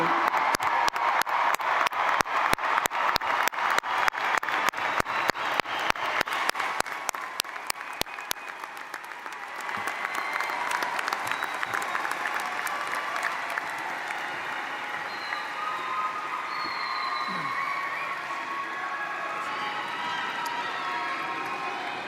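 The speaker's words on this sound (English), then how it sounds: "I invite all recipients of a bachelor's degree to move your tassels from the right to the left as we applaud you all." Graduates at Wright State University's fall 2021 undergraduate commencement receive sustained applause from the audience, with rhythmic, unified clapping early on that loosens into a broad, even wash of clapping and distant cheers.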